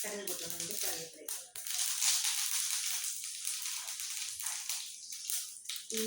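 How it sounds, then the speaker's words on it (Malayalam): Mustard seeds crackle and spit in hot oil in a pan, a dense hissing patter that fades in and out while someone talks over it. "കടുക് പൊട്ടുന്നുണ്ട്, കറിവേപ്പില,"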